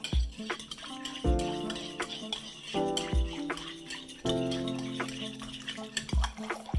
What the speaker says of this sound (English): Make sure you mix it up real good because the alcohol tends to separate a little bit